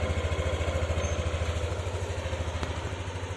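A Yamaha Nmax or Aerox scooter engine fitted with an RS8 racing pulley idles close by, its low, regular, pulsing putter holding steady for the whole stretch.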